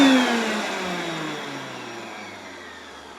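A first-generation Hoover Concept One upright vacuum cleaner motor whines and winds down, its pitch sliding steadily lower as the sound fades over a few seconds, heard alone and close.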